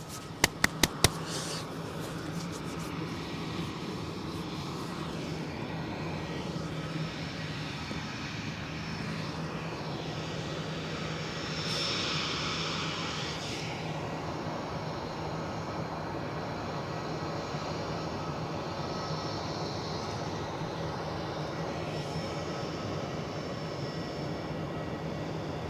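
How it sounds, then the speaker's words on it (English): A light aircraft drones steadily over an airfield at Edinburgh Airport, a constant moderate engine hum that holds throughout with a slight swell near the middle, with no talking. "Got light aircraft zooming over the airfield. I'll not chase it. You can probably hear it droning."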